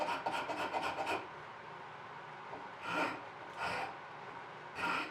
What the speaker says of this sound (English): Then back to the files again to profile the handle